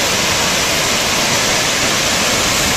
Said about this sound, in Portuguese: Tamanha é a grandeza dessa cachoeira.